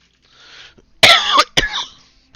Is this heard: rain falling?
no